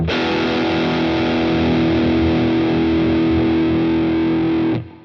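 A heavily distorted electric guitar chord through a Boss Katana with a GE-10 graphic EQ boost rings out steadily with a thick, boosted low end, sustaining for several seconds before cutting off abruptly.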